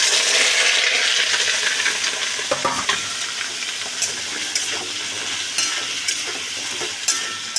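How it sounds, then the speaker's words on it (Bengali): Potatoes and onions frying in hot oil with spices, a steady broad sizzle throughout with occasional stirring clatter and scrapes, close and fairly loud, no talking. "আলু পেঁয়াজটা ভাজছি"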